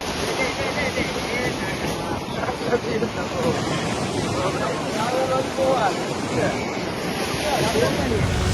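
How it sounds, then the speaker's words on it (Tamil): Foamy sea waves wash onto the Sri Lankan shore in a continuous, loud roar of surf with wind buffeting the microphone throughout and no pauses. "சவர்க்கார நுரைகள் போல் வெளிக்கிளம்பும் அலைகள் கடற்கரையில் குவியல் குவியலாக தேங்கி கிடக்கும் நுரைகள்"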